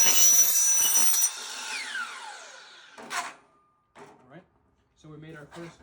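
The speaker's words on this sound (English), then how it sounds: "we're going to hold our saw open like so, and we're going to release our safety trigger" Power saw cutting through a metal downspout, a loud whining buzz for over a second that winds down as the blade slows, followed by brief clatter and quiet talk.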